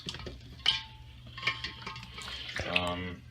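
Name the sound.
sanitizing water running from a fermenter through siphon tubing into a bucket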